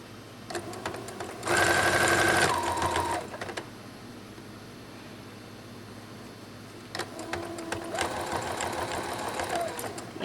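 A sewing machine stitches the seam of a ruffled sock in two loud, close bursts of rapid mechanical whirring, separated by a quieter pause with faint handling sounds.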